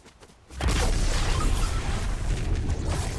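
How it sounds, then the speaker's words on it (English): A loud explosion in the video game Fortnite bursts in suddenly after a quiet moment, then rumbles on as a sustained, broad roar with deep low boom through the rest of the clip. "It sounds just like an explosion."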